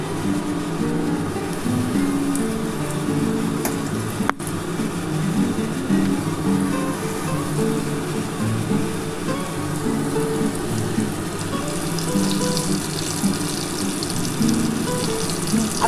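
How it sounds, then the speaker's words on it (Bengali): Chicken pieces coated in cornflour and flour fry in hot oil for crispy chicken, a continuous close crackle and sizzle like steady rain, with no talking. "এবার এগুলো একটা একটা করে ভেজে নিচ্ছি"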